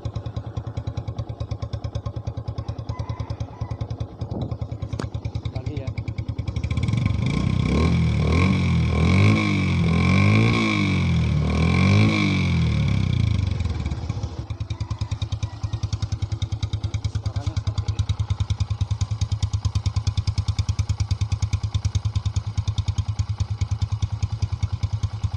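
Motorcycle fitted with a Byson exhaust cut down short, revving hard in a loud, rough burst midway between stretches of steady, throbbing idle, close up with no talking.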